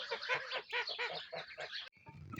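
Domestic ducks and geese at their evening feeding give a dense run of loud, close honks and quacks, repeating rapidly for about two seconds before breaking off into quieter farmyard noise.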